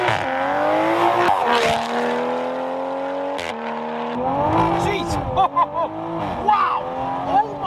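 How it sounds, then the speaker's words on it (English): A supercharged Toyota Supra driving, its engine revving and shifting up through the gears with a strong tonal whine, close and loud, while a voice talks over it. "So here's a quick clip of him driving the Supra."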